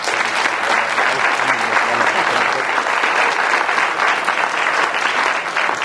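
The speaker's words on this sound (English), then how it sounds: "give him a good round of applause" Sustained, dense applause from a large crowd at a conference, loud and even throughout with no pauses.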